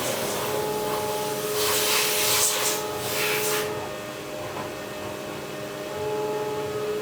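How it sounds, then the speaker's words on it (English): Aluminum base plate for an optic mount being cut on a CNC machine, giving a steady mechanical hum and whine with a louder hissing, spraying cutting burst in the middle. "we're machining the actual base plate right now"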